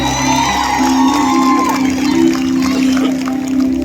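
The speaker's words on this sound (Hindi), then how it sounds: "एक बार जोरदार ताली हो जाए।" A crowd at the Nampally exhibition in Hyderabad cheers and whoops loudly, with shouting voices and a sustained tonal sound from the venue's sound system underneath.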